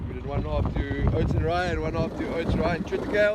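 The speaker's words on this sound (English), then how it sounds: "I apologize for the wind." Gusty wind buffets the microphone on an open farm field planted with oats, rye and triticale, a steady low rumble running under a person talking close by throughout.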